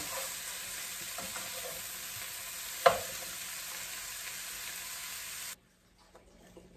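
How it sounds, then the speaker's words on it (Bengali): Bread toasting in a buttered pan for a homemade breakfast gives a steady, soft sizzle with a single sharp clink partway through, then the frying cuts off abruptly into near silence. "এখানে আমি ব্রেড টোস্ট করতে দিচ্ছি।"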